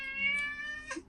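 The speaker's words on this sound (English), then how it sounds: "Oh, that's my cat. He's having needs right now." A male house cat gives one drawn-out, tonal meow close by, rising and then trailing off with a short chirp at the end, clear and alone.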